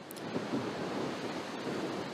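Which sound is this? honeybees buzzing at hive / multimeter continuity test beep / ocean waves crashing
ocean waves crashing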